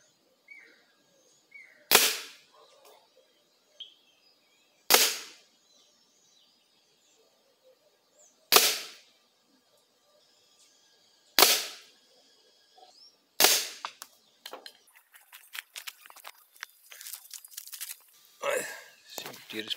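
Shotgun firing five shots of 6.35 lead shot at a 20-metre target, each a sharp loud blast spaced a few seconds apart, followed by rustling and handling noise at the end.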